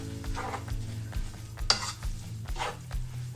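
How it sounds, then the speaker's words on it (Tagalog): Pancit bihon rice noodles being stirred in a hot pan, scraping and tossing strokes over a steady sizzle of frying, close and continuous with no talking. "Siyempre haluin natin para mag-balance ang kulay."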